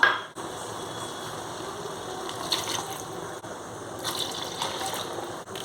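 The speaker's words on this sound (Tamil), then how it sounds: "இதில் இப்போ நம்ம தண்ணி ஆட் பண்ணிடலாம்." About two cups of water are poured into ground masala while cooking Kumbakonam kadappa, a soft, steady trickle heard faintly and alone for several seconds.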